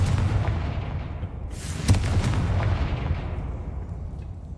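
A Confringo fire spell bursts in the Hogwarts Legacy video game, a loud booming blast with sharp cracking pops and a rumbling, crackling decay, with no talk over it.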